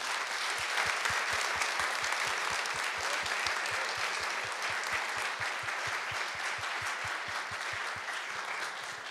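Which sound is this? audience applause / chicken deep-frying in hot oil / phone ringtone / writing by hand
audience applause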